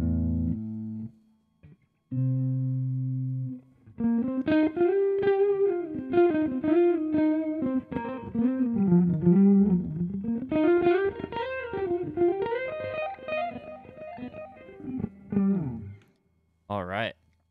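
An electric guitar played through distortion and effects rings out with sustained, buzzing chords and melodic lines, after a few short held bursts, loud and close with brief gaps.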